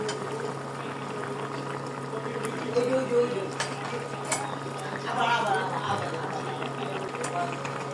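A pot of water with winter vegetables and shrimp boils steadily on a stove, a continuous close bubbling hiss with a few clinks, while a voice talks over it.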